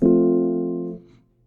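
A single sustained chord rings out clearly, holding steady for about a second before being cut off, leaving brief silence.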